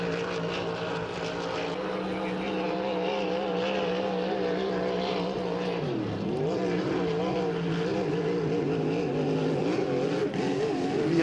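H350 hydroplane racing boat engine at speed during time trials, a steady loud droning roar held throughout with a brief dip in pitch midway, continuous and close, with no talk.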